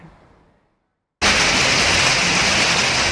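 Heavy monsoon downpour in Sindh and Balochistan, a dense, loud, unbroken roar of rain that cuts in abruptly after a short, fading quieter passage.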